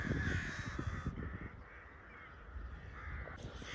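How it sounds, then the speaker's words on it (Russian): A flock of crows caws repeatedly near a lake in Bucharest, Romania, harsh overlapping calls from several birds, loud at first and then continuing farther off. "Вороны. Стаи ворон."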